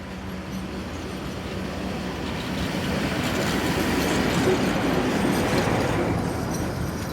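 PKP Cargo locomotive train rolling past on the rails, a steady close rumble of wheels with a rattling clatter that grows slightly louder as the wagons go by.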